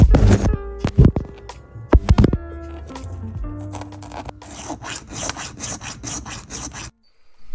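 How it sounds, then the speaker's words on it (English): A carbon fiber shift knob part is sanded by hand in quick, rhythmic rubbing strokes, close up, over faint background music. "Then sand carbon fiber part in the same way as the printed one."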